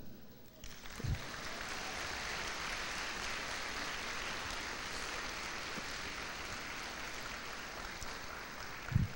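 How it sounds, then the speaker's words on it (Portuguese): A church congregation breaks into applause, dense clapping that begins abruptly near the start and carries on evenly for several seconds, with a brief louder knock near the end. "Cadê a dona Rosinha para puxar uma salva de palmas para nós aí?"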